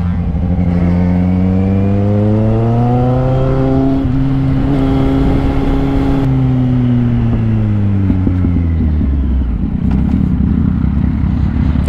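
A three-cylinder motorcycle engine revs up hard, pitch climbing steadily through one long pull, then easing off and settling into a loud idle.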